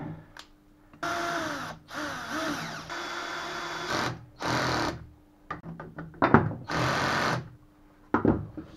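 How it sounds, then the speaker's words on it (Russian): Bolts are tightened while assembling a Hidea/Tohatsu 9.8 outboard gearbox: close, repeated short bursts of buzzing, motorized whirring separated by brief pauses and small clicks. "Теперь закручиваем вот эти вот болтики."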